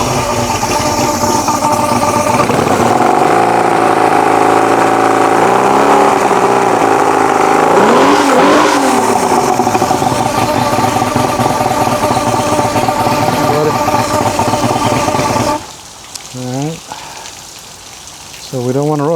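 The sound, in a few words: Mercury 150HP Black Max outboard engine running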